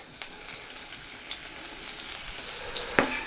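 Onion sizzling and frying in a very hot pan during a Kamado barbecue cook, a steady close crackle with a few sharper pops and a louder spit near the end, no talking.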